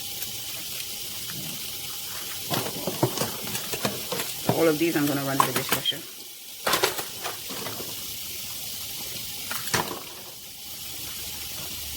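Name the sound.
rinsing dishes under running tap water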